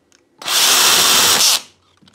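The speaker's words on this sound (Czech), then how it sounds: "Ta vrtačka má volnoběžku." A cordless drill spins up at high speed, holds a loud, steady whine for about a second, then winds down, with quiet handling noises on either side.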